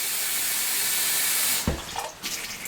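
Cold tap water runs into a bowl of sliced potatoes for a gratin dauphinois, a steady close hiss that breaks into a brief splashing gush near the end.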